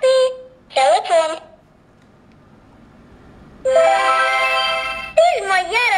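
A telephone ringtone in a children's alphabet toy, two bursts of bright electronic tune, one early and one longer from about 3.7 s to the end, with a voice in between.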